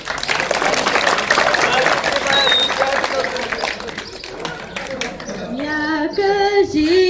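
Audience applause fills a school hall after a student folk singer of Strandzha songs is introduced, steady dense clapping with some crowd murmur, and a singing voice begins to rise near the end as the clapping continues.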